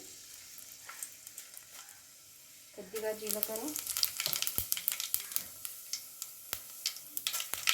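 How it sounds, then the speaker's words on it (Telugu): Hot oil bursts into loud sizzling and crackling as dried red chillies, mustard seeds and crushed garlic drop in for tempering, following a quieter stretch with brief speech. "ఆయిల్ హీట్ ఎక్కింది. బెండకాయ చారుకి మనం తాలింపు వేసుకుందాం."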